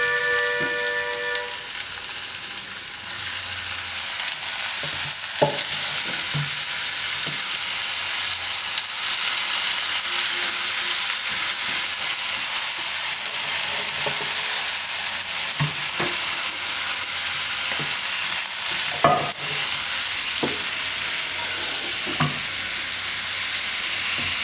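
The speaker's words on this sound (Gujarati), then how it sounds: "મિક્સ કરી લેવું. થોડીક વાર આને પાકવા દેવું." Lilva beans cook in a pan with a loud, continuous sizzle and hiss, broken by scattered clicks and scrapes of stirring. No voices are heard.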